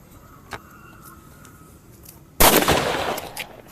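A mini bullet firecracker bursts during Diwali with a single sharp, loud bang that trails into a crackling fizz, after near-quiet waiting with faint ticks.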